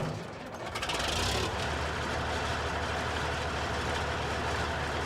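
A loud, steady tractor engine roar drones throughout in Farming Simulator 19, a deep rumbling motor running continuously with a brief hiss near the start.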